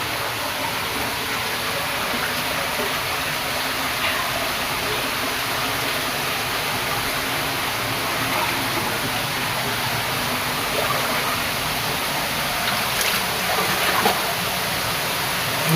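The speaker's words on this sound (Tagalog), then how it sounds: "Puro tubig ka-idol oh" Water gushing in a steady, dense rush that holds unbroken and fairly loud throughout, with no voices over it.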